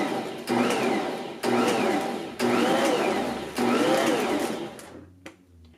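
A powerful Bosch Universal Plus stand mixer beats flour and coconut milk batter in four short pulses. Each whirring burst lasts about a second, separated by brief gaps, and the motor winds down to near silence at the end.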